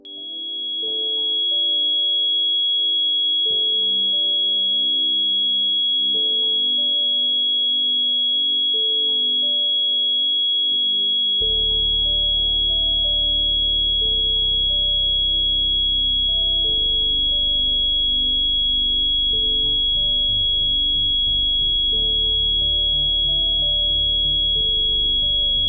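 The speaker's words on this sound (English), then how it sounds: "What this sound of frequency does is, it strengthens your 5 senses" A steady pure frequency tone played for productivity hums throughout, alone with no voices, while soft low tonal pads shift underneath and swell after the midpoint.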